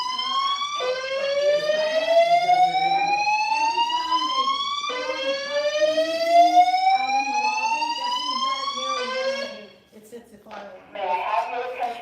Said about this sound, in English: That's the popcorn machine. It sets off the alarm.